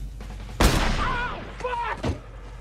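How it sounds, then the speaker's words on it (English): A loud gunshot crack rings out in an 1980s movie scene, a single sharp blast followed by voices and a scream-like cry as people react under it. "is struck by a bullet from Marcy Harriel's gun"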